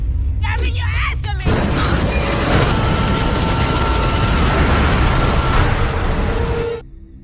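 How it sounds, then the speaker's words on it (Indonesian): Avalanche on K2 in a film scene, a sudden loud roaring rumble that swells and holds for several seconds before cutting off, preceded by brief voices or cries. "tampak sebenarnya dari ledakan tersebut berupa longsoran salju"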